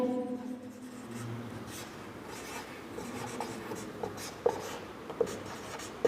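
Pen scratching on paper while a geometry construction is written out, joining centre O to points P and Q; steady soft scribbling with a few light taps, close and quiet, with no talk.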